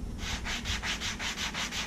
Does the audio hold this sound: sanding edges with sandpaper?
yes